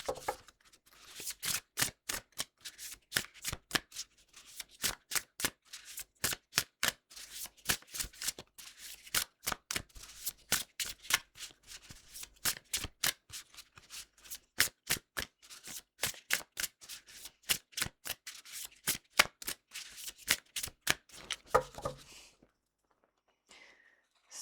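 A deck of Shadow of Darkness oracle cards is shuffled by hand in a long run of crisp, rapid riffles and taps, close and clear, ending in a few softer handling sounds with no speech.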